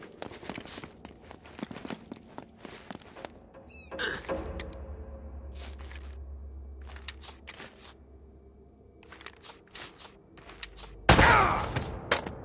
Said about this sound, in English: Seem to be getting shot at.